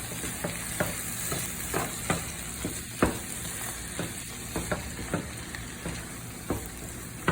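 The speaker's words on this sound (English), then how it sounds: "Quick little stir." A garlic mixture stirred in a sizzling frying pan, a steady sizzle with a run of regular scraping strokes close by and no talking.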